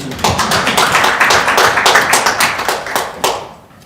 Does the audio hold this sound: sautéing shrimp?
no